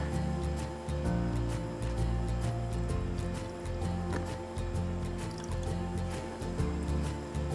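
Distilled water runs over a pH electrode during rinsing, giving a soft, steady trickle with faint drips over a low background hum. The sound is close and fairly quiet, with no speech.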